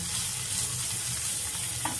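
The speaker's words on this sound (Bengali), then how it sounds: "এখানে হবে ফ্রাইড রাইসের সব ভাজা হচ্ছে, বিনস, গাজর, ফুলকপি দিয়ে ভাজা হচ্ছে" Beans, carrots and cauliflower frying together for fried rice, giving a steady close sizzle with soft stirring scrapes and a brief clink near the end.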